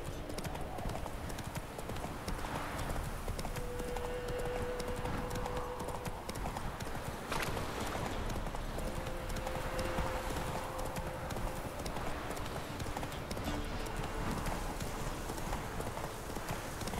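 Roach the horse galloping in The Witcher 3 video game, a steady rapid clip-clop of hooves running throughout over a constant game soundscape.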